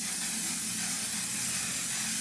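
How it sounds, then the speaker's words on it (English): One Size makeup setting spray mists from its bottle in a steady, close hiss that lasts a couple of seconds without a break. "I'm going to use the one size setting spray."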